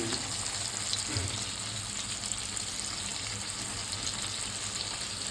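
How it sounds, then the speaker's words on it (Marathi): Fresh fish fries in a pan as one side cooks, giving a steady, continuous sizzle and hiss that holds even throughout, with no talking. "आता एक बाजूने फ्राय करूया नंतर उलट्या बाजूने फ्राय"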